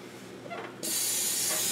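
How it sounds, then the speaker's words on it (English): A can of cooking spray hisses onto hands during pizza dough kneading, a sudden bright, steady close spray starting after a quieter moment and continuing to the end. "And you may have to spray your hands again."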